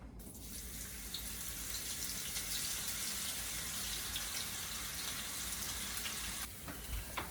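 Onions frying in hot oil at about 350 degrees, a steady close sizzle and crackle that holds evenly for several seconds with a brief dip near the end.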